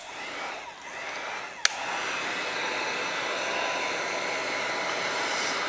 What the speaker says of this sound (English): I'm heating it up so it stretches a little better